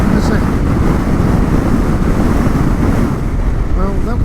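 Strong gusting wind buffets a rider on a KLR-650 motorcycle along a rough outback track, a loud, constant rumbling roar of wind over the microphone with engine drone underneath, unbroken throughout.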